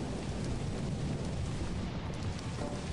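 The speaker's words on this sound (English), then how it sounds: "Lightning. It's raining inside for me." Rain and thunder during a storm in Lethal Company, a loud continuous broadband roar of rain with rumbling thunder folded into it, filling the whole stretch without any voices.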